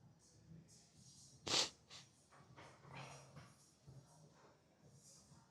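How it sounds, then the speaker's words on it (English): Quiet, close nasal sniffs repeat irregularly, one sharper and louder than the rest, against a soft breathy background. "I do apologize for sniffing the whole time"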